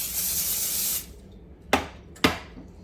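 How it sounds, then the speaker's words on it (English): A steady hiss of cooking spray into a baking pan for about a second, stopping abruptly, followed by two sharp clunks like a can or pan being set down. "We are gonna give that a shot of spray then"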